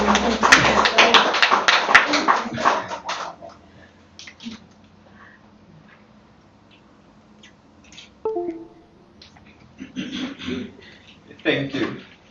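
Audience applause at a memorandum of agreement signing ceremony, a burst of dense clapping in the first few seconds that fades, followed by quieter room sounds and brief scattered taps.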